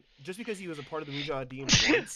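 A person talks quietly, then a single sharp, breathy sneeze bursts out near the end, loud and close, followed by a short trailing exhale.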